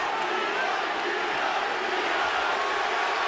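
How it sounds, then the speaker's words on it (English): A boxing arena crowd chants for Bernard Hopkins during his fight with Kelly Pavlik, a steady, dense roar of many voices with no clear breaks, heard from amid the audience. "And the crowd is chanting, B-Hop"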